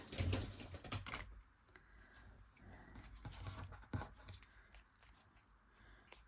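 Quiet, crisp snipping clicks repeat unevenly close by, with small rustles in between.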